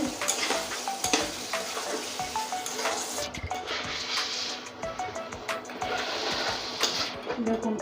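Spice paste sautéed and stirred in a pan for a Bengali fish curry with potatoes, a steady close sizzle broken by repeated scraping strokes of a spoon, with a voice talking over parts of it.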